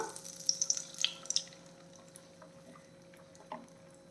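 Beaten egg sizzles in melted butter in a pan over medium flame while being stirred, giving a soft frying hiss with a few sharp crackles and spatula scrapes early on.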